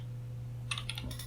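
Typing on a computer keyboard: a quick run of soft, close key clicks in the second half over a steady low hum.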